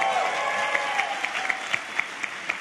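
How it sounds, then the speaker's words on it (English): Applause from a startup conference audience welcoming Reid Hoffman, a short steady wash of crowd clapping with a few brighter individual claps standing out, no speech over it. "please give a round of applause"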